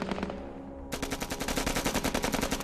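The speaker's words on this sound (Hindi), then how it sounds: "फायरिंग वापस शुरू हो गई। अपनी तरफ से एक जवान फायर कर रहा है।" War-movie gunfire crackles in rapid automatic bursts, a dense run of sharp shots that pauses briefly and then resumes as a continuous loud rattle.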